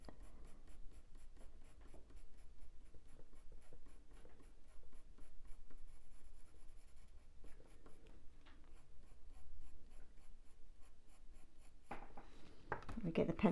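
Colored pencil scratches softly and steadily on paper while shading in a drawing of a ginger cat, a close, faint, continuous scraping with brief pauses between strokes.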